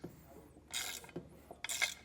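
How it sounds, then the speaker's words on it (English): A 3/4 inch socket wrench ratchets in two short bursts while tightening a bolt on a B&W Companion 5th wheel hitch on a 2024 Ford F-350, giving quiet, close clicking strokes separated by a brief pause. "And to tighten, I'm using a 3/4 inch socket wrench."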